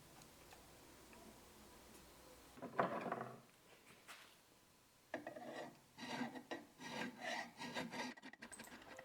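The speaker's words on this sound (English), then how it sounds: "so I don't think you really want to see every single stroke of the file" Hand file rasping across a cast iron part in repeated strokes, a short burst early then a steady run of close scraping strokes, fairly faint with no talk.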